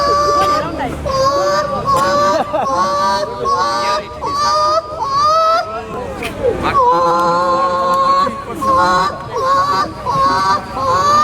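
A voice imitates a chicken at a birthday celebration, giving loud, continuous warbling clucks and squawks close up, with a crowd murmuring underneath throughout.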